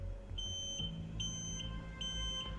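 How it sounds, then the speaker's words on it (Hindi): A smoke alarm goes off in a house in the 2008 horror film The Strangers after fireplace smoke fills the room, giving three piercing, evenly spaced beeps over a low rumble. "तभी फायर अलार्म बज उठता है"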